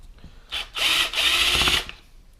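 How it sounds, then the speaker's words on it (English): A power driver backs out Phillips screws inside a Maxshine M15 Pro polisher, producing two close, loud whirring bursts, one brief and one longer, separated by a short pause, with quiet handling noise around them. "you got 4 Phillips screws in there. Go ahead and remove those."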